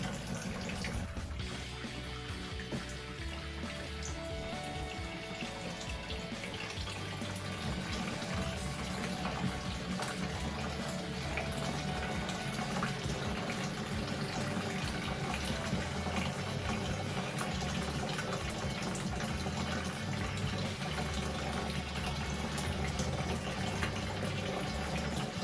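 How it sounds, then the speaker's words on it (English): Water runs steadily from a tap while home cider is being brewed, a continuous close rushing flow that holds even and unbroken throughout with no voices. "Turn the tap on."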